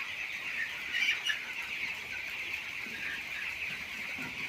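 A flock of poultry-farm chickens drinking at nipple water lines fills the air with a steady, dense chorus of clucking and soft calls, moderately close and continuous, with no voices.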